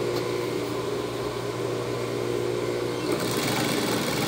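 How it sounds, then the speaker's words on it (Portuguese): Sewing machine stitching denim for a skirt alteration, a loud rapid continuous mechanical whir and chatter close by, running steadily with a slight shift in tone near the end. "Eu não gosto de costurar jeans nessa máquina aqui."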